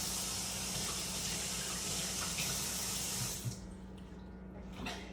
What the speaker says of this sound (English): So we're gonna rinse this off.